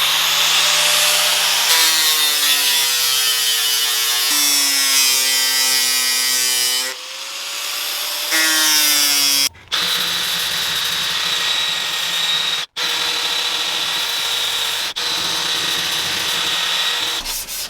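A replica sword blade is sanded and polished with a power tool, giving a loud whirring hum that shifts pitch in several stretches and is broken by a few short pauses.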